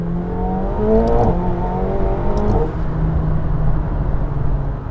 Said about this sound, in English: the shifts, when you put it in manual mode, are just, I mean, unbelievably quick